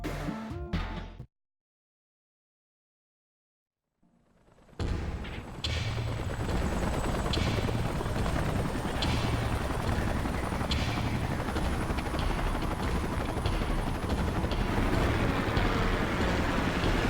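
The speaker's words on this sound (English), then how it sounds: "Let's call in the salvage choppers and get it out of here." Rotor roar of salvage helicopters arriving in Xenoblade Chronicles X, a sustained loud whirring drone with rhythmic chop that bursts in after a brief silent gap and holds steady to the end.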